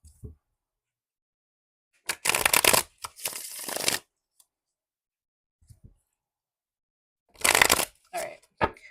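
Tarot cards riffled and shuffled in a few quick bursts, crisp and close, separated by quiet gaps.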